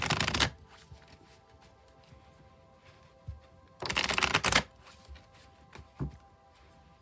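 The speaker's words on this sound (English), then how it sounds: "I'll shuffle till the deck feels ready" Tarot cards being shuffled, two loud bursts of riffling, one at the very start and another midway, with quiet soft handling between them and no voices.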